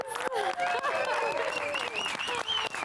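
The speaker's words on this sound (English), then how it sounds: "give Ilana another round of applause." A studio audience applauds loudly for a 77-year-old fitness instructor, the clapping mixed with a voice speaking and laughing over it throughout.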